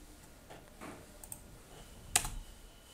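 A few scattered keystrokes on a computer keyboard while a bot command is typed, faint and close, ending in a single sharper click, with no talk.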